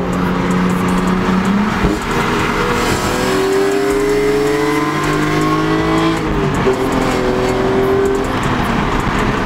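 BMW M3 with 300-plus horsepower and a 410 differential accelerating hard through the gears, its engine note climbing loudly, dropping at each shift, then climbing again, heard close up from inside.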